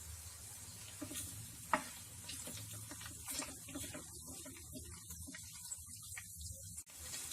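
Mutton pieces fry on a hot tawa with cloves and cardamom, a low continuous sizzle broken by scraping stirs and a sharp clack, fairly quiet and close, with no one talking.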